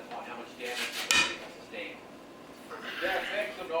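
A cheater bar breaks loose a bolt on a KA24DE engine during a teardown: scattered metallic clinks and tool clatter, with one sharp snap near the middle, over faint background voices.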